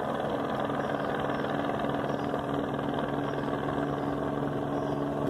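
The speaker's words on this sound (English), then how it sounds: "The helicopter circling it." A helicopter circles in the sky over Los Angeles, giving a steady, continuous engine and rotor drone at moderate distance with no talk.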